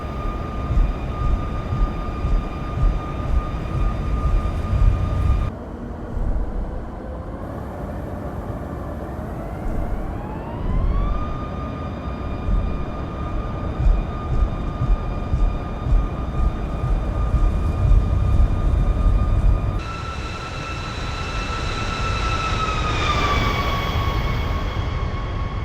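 Simulated Boeing 737 MAX engines on a Delhi-to-Jaipur flight in X-Plane 12 spool up to takeoff thrust, a loud steady roar with whining tones that climb in steps, then shift again late in the run.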